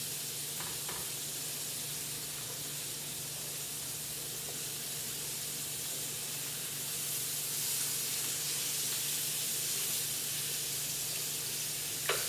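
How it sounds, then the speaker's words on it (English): Center-cut bone-in pork chops searing in a skillet, a steady moderate sizzle and spitting hiss throughout, with a low hum beneath and no talk. "I'm going to turn one so you can see the sear"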